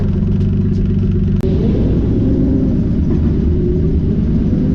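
An old gold Nissan Z accelerating hard while racing, its loud engine holding a steady, heavy low rumble throughout with a brief sharp click near the start, no talking.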